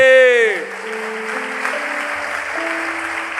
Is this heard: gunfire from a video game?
no